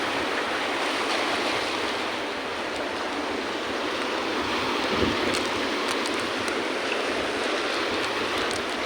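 Ocean waves crash steadily on Poio Beach, a continuous loud roar of surf with no pauses and no one speaking.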